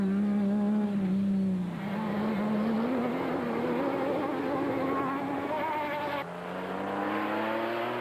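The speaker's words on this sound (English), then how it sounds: "The Ford pair again found themselves racing in thick dust" Ford rally cars racing through thick dust produce a loud, sustained engine drone whose pitch wavers and shifts, with a brief dip and jump near the end as the note changes.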